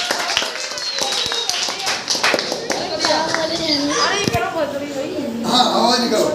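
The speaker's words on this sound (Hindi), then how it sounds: "बहुत बढ़िया, ताली बजा दो इसके लिए।" Classroom applause for a child at a storytelling session, a burst of hand clapping mixed with children's chatter and an adult voice talking over it.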